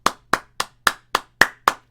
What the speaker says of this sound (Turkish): Bir alkış da.